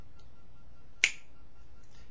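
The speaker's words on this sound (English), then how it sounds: "If I could snap my fingers right now" A single sharp finger snap, close and crisp, sounding once in an otherwise quiet room with faint background hiss.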